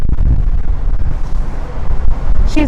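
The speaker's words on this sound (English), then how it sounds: "Woo, it's windy out here." Gusty outdoor wind buffeting a microphone, heard as loud, uneven low rumbling blasts that surge and dip over a few seconds, with a brief faint tonal sound near the end.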